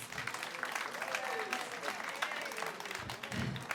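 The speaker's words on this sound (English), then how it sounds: "So round of applause to all the single moms." Comedy club audience breaks into sustained applause and clapping, loud and continuous through the whole stretch, with some crowd murmur mixed in.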